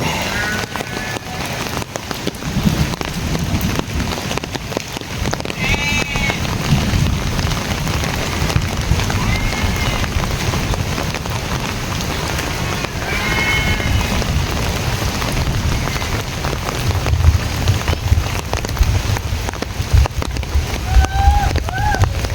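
Steady rain falling over a foggy village in Cariu during an afternoon downpour, a constant broadband patter with a low rumble underneath, and faint birds or voices occasionally surfacing in the background.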